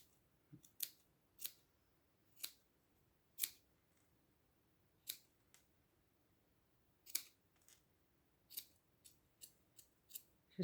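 Scissors snip through a yarn pompom on a crocheted baby blanket, a series of crisp, close cuts at irregular intervals that come faster toward the end, with quiet surroundings.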